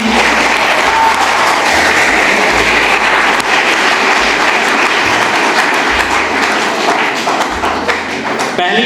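Loud, sustained audience applause at a Har Ghar Dhyan meditation talk event, dense continuous clapping filling the hall with steady thumps throughout.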